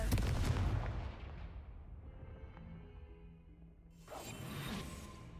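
A Confringo blasting spell cast in Hogwarts Legacy, heard as a loud booming burst that fades into a ringing tail, followed by a second whooshing blast near the end.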